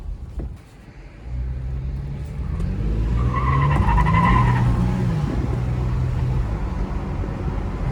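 A Toyota 4Runner SUV's 4.0 V6 engine rumbles as its tires squeal in a sustained, rising skid under hard braking, loud and close, with no talking.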